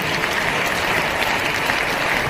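Loud, sustained applause from a large crowd at a political party joining ceremony in India, dense and steady clapping throughout with no pauses.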